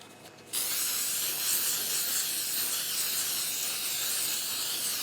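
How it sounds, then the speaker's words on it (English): A sudden, steady aerosol hiss of spray adhesive starts after a brief pause and continues unbroken at close range. "So spray adhesive."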